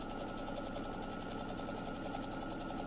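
A sewing machine stitching patchwork seams while piecing fabric letters, running as a steady close whir with a fast, even mechanical pulse throughout and no pauses.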